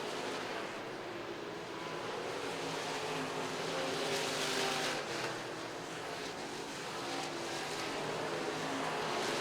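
IMCA stock cars race down the back straightaway at RPM Speedway during the Fall Nationals, a steady, loud engine roar filling the whole stretch and swelling slightly midway as the pack passes.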